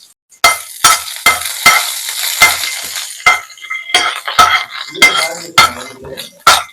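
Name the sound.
whole spices frying in hot oil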